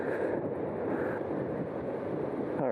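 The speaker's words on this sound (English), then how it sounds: "very windy." Strong wind blows on a pier by the water, a steady, loud roar buffeting the microphone without a break.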